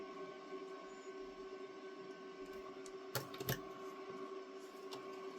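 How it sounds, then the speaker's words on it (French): An electric fan runs in a room during a scrapbook album crafting session, giving a quiet, steady hum with a faint tonal whine throughout, broken by a couple of brief clicks midway. "Excusez-moi si vous entendez le ventilo"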